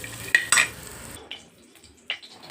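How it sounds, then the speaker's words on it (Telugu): Chopped cashews frying in ghee for dry fruit laddu, a short burst of sizzling with a clatter of a spoon against the pan, then near quiet broken by a couple of faint scrapes, up close. "నెయ్యి వేసి జీడిపప్పు ముక్కలు చేసి ఇవి వేయించేస్తున్నానండి"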